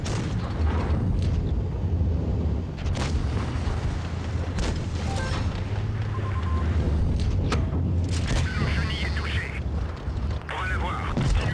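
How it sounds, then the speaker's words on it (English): Tank cannon shots in the World of Tanks video game, each one a heavy boom over a steady, loud rumble of battle noise that runs through the whole stretch. "I'm gonna try to put a shot into the E75 because he's a lower HP"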